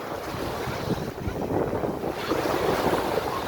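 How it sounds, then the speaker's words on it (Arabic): Sea waves roll and break on a windy beach at Anfoushi, Alexandria, a loud continuous wash of surf with gusting wind buffeting the microphone throughout. "الموجه بقى عاليه"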